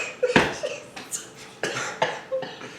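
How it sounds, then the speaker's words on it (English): A few faint, short coughs and throat sounds come in irregular bursts, quiet and somewhat distant, with no clear speech. "I'm having a coughing issue."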